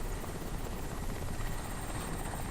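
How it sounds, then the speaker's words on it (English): Helicopter in the video game Crysis Warhead, a steady dense rotor-and-engine roar filling the scene without pause, loud and continuous with no voices over it. "Psycho, can you track that helicopter"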